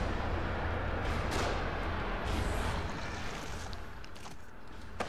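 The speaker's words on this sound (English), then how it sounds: "They're shooting from above." Enemies shooting from above in The Evil Within unleash loud, sustained gunfire, a dense roar of blasts with sharp cracks standing out near the start and toward the end.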